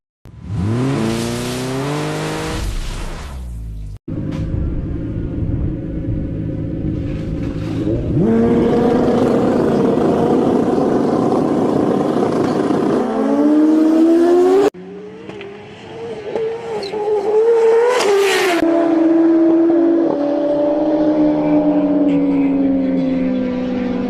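Heads-up drag race cars roar off the line, engines screaming up through the revs in long, loud runs, one after another with brief gaps between passes.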